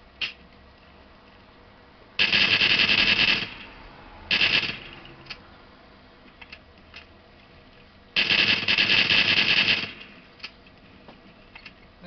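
Bursts of rapid automatic gunfire from weapons in Call of Duty: World at War, three loud sustained volleys with a short gap between, heard alone.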